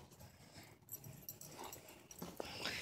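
Young puppies whimper and yelp in short, uneven bursts at close range, shuffling and light movement noise underneath.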